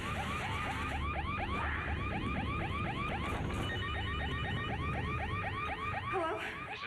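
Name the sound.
home security burglar alarm going off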